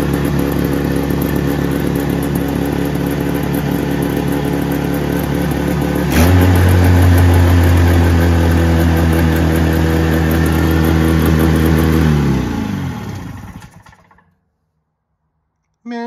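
A motorcycle engine with dual Mikuni carburetors idles steadily and loudly up close, rises briefly in pitch, then winds down and cuts off into silence.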